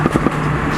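Turbocharged Mini Cooper on a cold day, giving three sharp crackles in quick succession over a steady engine drone, loud and close.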